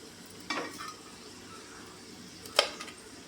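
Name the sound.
potatoes frying in a pan for aloo dum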